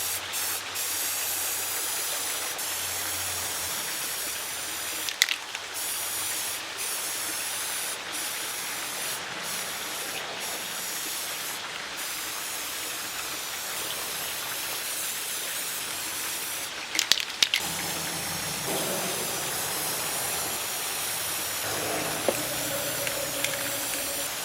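A can of nutmeg spray paint hissing steadily onto an old coir door mat, a close, continuous aerosol spray broken by short pauses and brief clicks and rattles of the can.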